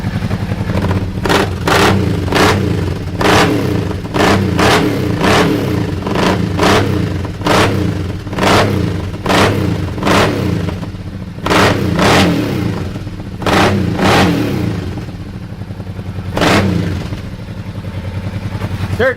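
Kawasaki Teryx UTV fitted with an aftermarket exhaust, idling with a rough burbling rumble punctuated by repeated sharp throttle blips and crackles, close and loud over about twenty seconds.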